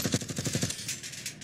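Rapid automatic gunfire from the Call of Duty Warzone video game: a fast burst of about eight sharp shots in quick rhythm, followed by fainter scattered reports trailing off, with no talking.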